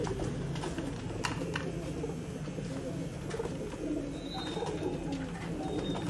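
Soft pigeon coos repeat over a steady low hum of background noise, with a few faint clicks and distant chatter.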